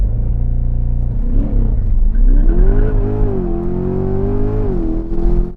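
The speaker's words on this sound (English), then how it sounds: "the brake pedal down and then floor the accelerator." A Chevrolet C8 Corvette Z51 launches with the accelerator floored, its loud, deep engine note climbing in pitch and holding a sustained roar before cutting off abruptly.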